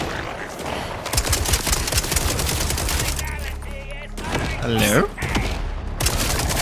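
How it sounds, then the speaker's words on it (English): SMG gunfire in the Borderlands 4 video game, firing in long rapid bursts almost throughout at close range, mixed with game effects and a brief voice. "Go ahead and use this SMG."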